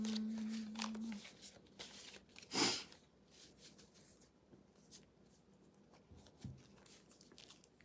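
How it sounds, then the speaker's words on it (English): A deck of cards is shuffled in a quiet room, producing one brief, crisp riffle burst among faint handling rustles and soft taps. "Just shuffling the deck."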